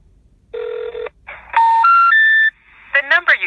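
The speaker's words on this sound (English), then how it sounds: "Now I am going to call the number back, and you can listen to that" Dialing a phone number and call tones: a steady tone, then a rising sequence of loud three-note beeps typical of an out-of-service number, followed by short warbling electronic chirps.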